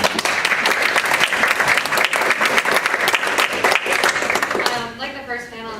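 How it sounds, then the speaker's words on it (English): An audience at a symposium panel breaks into steady, dense clapping that fills the room for several seconds, then thins out and stops as a voice begins speaking. "We have a round of applause for"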